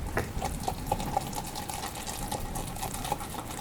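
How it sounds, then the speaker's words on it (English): Pancake batter being whisked with water in a bowl, a soft steady wet swishing with faint rhythmic clicks of the whisk, fairly quiet and continuous under a bed of background noise. "I'm just going to mix this up here with a whisk."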